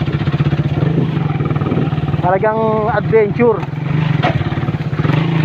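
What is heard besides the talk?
motorcycle engine on a steep uphill trail ride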